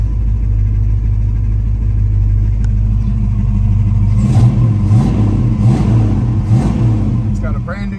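A 1971 Ford Mustang Mach 1 with a 351 V8, just after a cold start, idles with a loud, continuous low rumble and a burbling, slightly uneven pulse that firms up toward the end.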